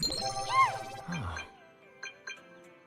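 A phone rings in the video game Zenless Zone Zero with bright chiming tones that sweep and jingle, then two short pinging notes follow over a faint hum of background game sound.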